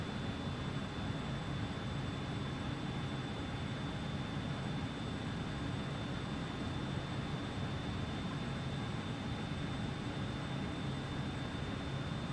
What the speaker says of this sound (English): You can just hear the auto throttles working away, spooling the engines up